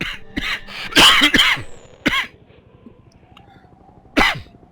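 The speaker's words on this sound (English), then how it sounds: "Excuse my coughing." Several harsh coughs from a nearby voice, a burst of two or three close together, then a single cough and another a couple of seconds later, with quiet gaps between.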